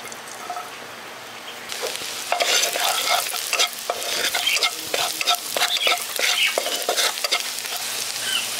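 Chopped garlic drops into leftover hot oil and fries, starting as a quiet hiss and swelling into a busy crackling sizzle with spattering pops and stirring clinks, heard close.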